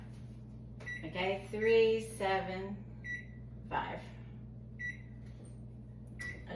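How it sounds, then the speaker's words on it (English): An oven's control panel being switched on and set to 375 gives short electronic beeps between a woman's spoken words in a home kitchen, with a steady low hum underneath. "we're gonna turn on the oven, 375."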